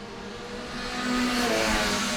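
Production sports cars under 1.5 litres race past at a vintage grand prix, engine note rising as they approach and sweep by at moderate distance.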